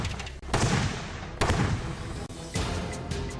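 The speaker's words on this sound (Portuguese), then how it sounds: "Após algumas explosões, o canhão sônico começa a desmontar." Sonic cannon set off indoors, firing three loud, booming explosions in quick succession, each a broad, sharp blast that carries through the whole clip.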